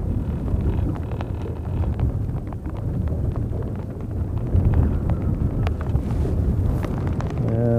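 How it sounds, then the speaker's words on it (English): Wind gusting outdoors at a fishing spot toward dusk, a loud, continuous rumbling buffet across the microphone that swells and eases without pause. "this wind blowing, I might just call it a day"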